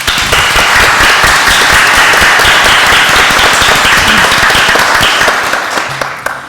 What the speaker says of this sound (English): I think we owe them a huge round of applause